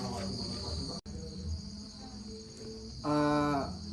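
Crickets on a cricket farm in Binjai trill continuously and close, a dense high chirring that holds for several seconds, with a low tonal hum joining near the end.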